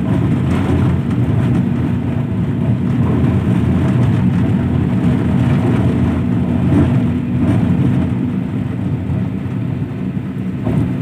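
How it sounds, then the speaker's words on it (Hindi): A Suzuki Super Carry CNG mini truck carrying a 1600 kg load climbs a rough hill road in third gear, its engine a loud, steady, straining drone with a dense low rumble throughout. "थर्ड गियर पे है कार"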